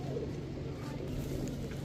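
Pigeons of fancy breeds such as Damascene cooing softly at a bird market, a low continuous murmur under a busy background with faint voices.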